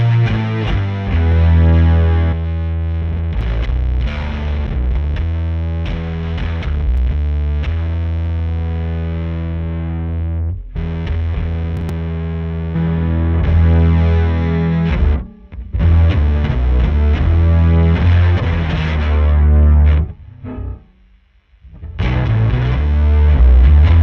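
Bass guitar runs through a saved overtone effect preset, giving a thick, distorted, chorused tone; sustained loud riffing continues with two brief drops in the middle before the playing resumes.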